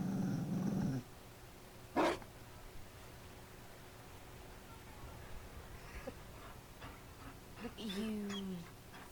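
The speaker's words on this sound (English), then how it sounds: "You found a dog." A Mabari war dog in the video game Dragon Age Inquisition lets out a low growl, then a sharp thud sounds. Near the end come a few short barks and a whining growl, all fairly quiet.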